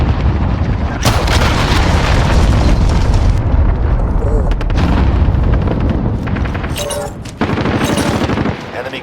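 Heavy, rumbling explosions and booming blasts from cruise missile strikes in the Modern Warfare video game, loud and continuous across the clip, with game voice callouts mixed in.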